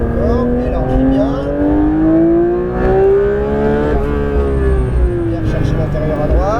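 A Porsche 992 GT3 RS accelerates hard around the La Ferté-Gaucher race track, its engine note climbing steadily, dipping briefly and rising again, loud and close, while an instructor talks over it.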